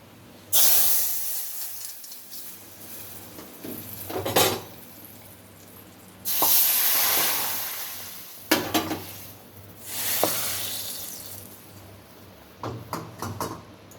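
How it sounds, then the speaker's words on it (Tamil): A tempering of curry leaves and chili powder hits hot oil in several loud hissing, spitting bursts, each fading away, with clinks of a spoon against the pan in between. "இப்போ தாளிப்பு"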